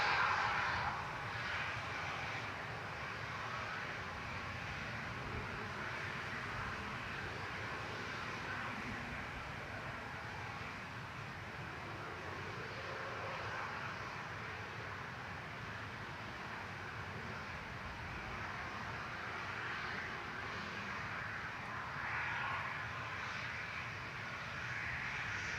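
An airliner departing from runway 23 left at Manchester Airport, a faint, distant, steady jet engine roar that holds evenly throughout with no talk.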